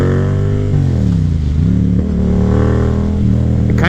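Yamaha FZ07 motorcycle engine revving loud and close, a deep throaty roar that dips and climbs in pitch while riding through a city in autumn.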